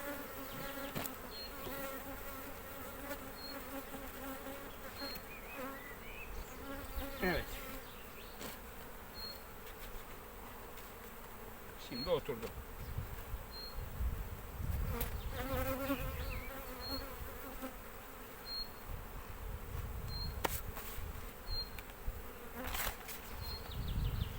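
Honey bees hum around an open hive being worked, a steady, close buzzing swarm with individual bees droning louder as they pass near, plus occasional handling knocks.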